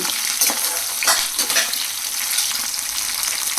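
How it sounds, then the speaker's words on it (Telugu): Slit green chillies frying in hot oil for mango pulihora, a loud, dense, steady sizzle with crackling bursts and occasional stirring scrapes. "ఈ పచ్చిమిర్చి మధ్యలో చీలికలా చేసుకున్నాను, కాయలు కాయలుగా వేసుకోలేదు"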